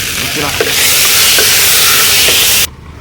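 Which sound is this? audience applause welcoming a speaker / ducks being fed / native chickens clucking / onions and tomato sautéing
onions and tomato sautéing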